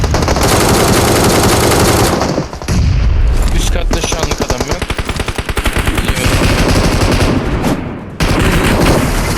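Rapid automatic gunfire in PUBG Mobile, loud and close, with long sustained bursts, a short pause, then a dense rattle of fast repeating shots.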